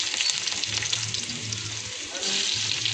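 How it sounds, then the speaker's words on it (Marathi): Cumin seeds and garlic fry in hot oil in a pan, a close, loud, crackling sizzle that stays steady throughout with only a slight lull near the middle. "थोडं जिरं टाकते लसूण टाकते"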